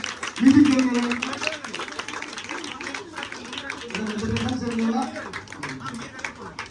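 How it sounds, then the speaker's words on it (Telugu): Guests clapping at a church engagement ceremony, scattered applause running under a man's continuous speech and other voices in a reverberant hall. "క్లాప్స్ కొట్టండి, అందరూ కూడా చెప్పండి"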